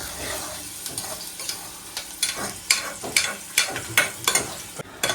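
Chicken biryani masala fries and is stirred in a pan, a steady sizzle broken by repeated scraping strokes of the spoon that grow louder and more frequent toward the end.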